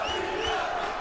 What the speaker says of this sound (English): Crowd, not the biggest crowd in the world, but loud.